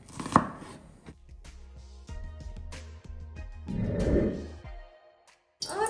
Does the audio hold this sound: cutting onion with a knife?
yes